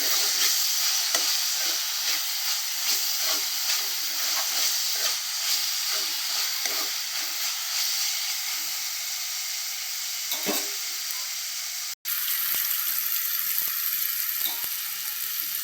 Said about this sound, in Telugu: ఫ్రై అవ్వాలండి, బాగా ఫ్రై అవ్వాలి.